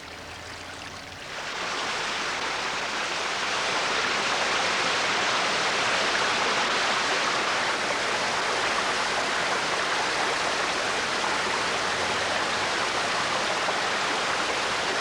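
Steady, loud rushing of flowing water in a stream, starting quieter for about a second and then holding a broad, continuous wash with no voices.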